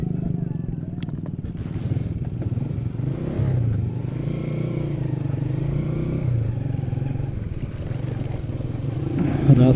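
A motorcycle engine on a rough road rumbles steadily and close, with some rattling and clatter over the drone.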